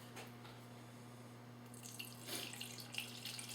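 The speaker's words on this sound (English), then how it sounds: "dump all that juice right here in this pot" Lemon juice poured into a cooking pot makes a soft, continuous watery trickle and splash, quiet and close, over a steady background hum.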